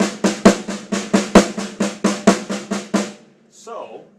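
A drum plays a quick, even paradiddle of about a dozen strokes, accented with a downstroke at the beginning, then stops and rings briefly.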